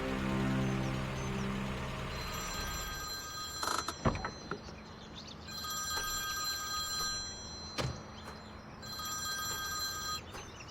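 A telephone bell rings in repeated bursts, separated by short gaps, at moderate level over a steady background hiss in a dramatic indoor scene.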